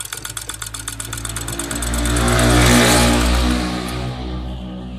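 An overlock sewing machine stitches a test seam, starting with a rapid even ticking that blends into a smooth loud whir before easing off, heard up close.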